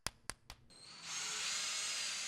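A power drill bores into a floor while a straight staircase is being installed, preceded by three sharp knocks, then a steady high whirring grind that runs loud and continuous to the end.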